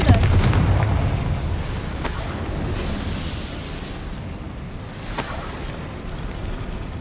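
A Confringo explosive spell in the Hogwarts Legacy video game bursts with a loud opening blast, followed by sustained rumbling and a couple of sharper crackling pops later.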